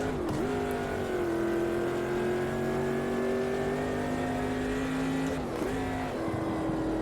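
A Corvette engine holds a steady, loud drone in top gear in the racing game Automobilista 2, pitch creeping upward, then dipping briefly at a shift or lift before resuming, with faint tire noise underneath.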